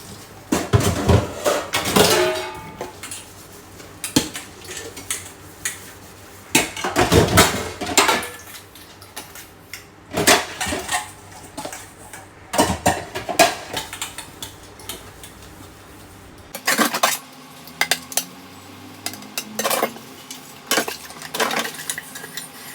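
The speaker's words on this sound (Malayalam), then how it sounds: "അപ്പോൾ ഞാൻ ബ്രേക്ക്ഫാസ്റ്റൊക്കെ ചെയ്ത പാത്രങ്ങളൊക്കെ ക്ലീനാക്കാൻ വേണ്ടിയാണ്. അപ്പോൾ ജസ്റ്റ് എല്ലാം വാഷ് ചെയ്യണം." Breakfast dishes and utensils being washed, with repeated clattering of pots, plates and cutlery in irregular bursts separated by brief quieter gaps, fairly close and with no talking.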